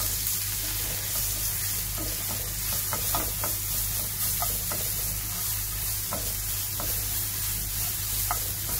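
Grated garlic sizzles steadily in hot oil in a pan, with intermittent scraping clicks from a spoon stirring it, close and continuous throughout.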